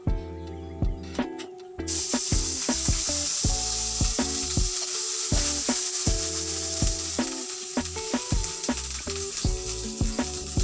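Shallots, garlic and kencur hit hot oil in a pan and sizzle loudly and steadily, with a hiss that rises sharply after a quiet start and repeated soft scraping and stirring clatter on top.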